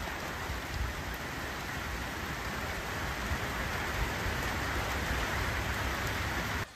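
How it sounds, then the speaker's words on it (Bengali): Heavy village rain pours down steadily beside a canal and trees, a loud, unbroken hiss of drops with no voices. "এই মুহূর্তে এমন বৃষ্টি আবার নামলো"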